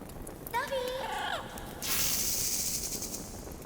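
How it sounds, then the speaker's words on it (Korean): Rattlesnake-like creature in the Monster Hunter Rise video game giving a steady hissing rattle that starts partway through and continues loud to the end, after a short voiced sound, with no speech over it. "방울뱀 소리 나"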